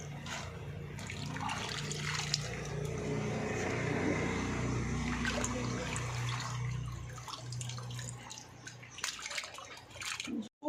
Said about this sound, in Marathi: असे पाणी झारून टाकायचं पूर्ण